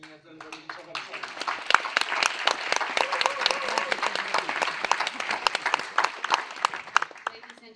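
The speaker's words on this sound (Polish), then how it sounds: "jeszcze raz brawa, gromkie brawa dla studentek Akademii Teatralnej" Loud, dense applause at an exhibition opening at the Academy of Fine Arts in Warsaw, honouring theatre academy student performers, with many hands clapping close and sustained for several seconds.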